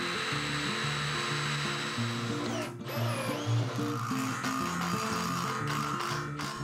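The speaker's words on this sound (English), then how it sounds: "We're gonna take our structural screws and lag the steel beam down to the post." A power tool drives structural screws to lag a steel beam down to a post, a steady close motor whir with shifting pitch as each screw bites, briefly pausing near the middle, loud and continuous with no talk.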